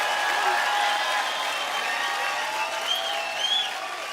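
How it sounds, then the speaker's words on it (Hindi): A studio audience on The Kapil Sharma Show applauds to welcome Sonam Kapoor and Anil Kapoor, a dense, steady wash of clapping with light cheering over a music bed. "सो जोरदार तालियों से स्वागत करना चाहूंगा the very beautiful, very talented Sonam Kapoor and evergreen mister Anil Kapoor"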